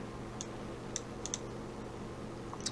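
Sparse computer mouse clicks, about five short isolated taps spread unevenly over a steady low hum, fairly faint and with no talking.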